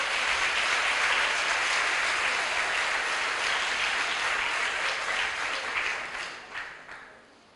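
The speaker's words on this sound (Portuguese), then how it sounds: "Se é para Jesus, você pode aplaudir" A church congregation at a conference claps for Jesus, a broad, even roar of applause that holds for several seconds and then fades out in scattered final claps.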